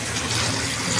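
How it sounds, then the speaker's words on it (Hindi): Water pours steadily into a pot of mutton while a Eid meal is cooked, a continuous dense splashing gush that stays loud and close throughout, with no voices. "अब इसमें 5 गिलास पानी ऐड करूँगी।"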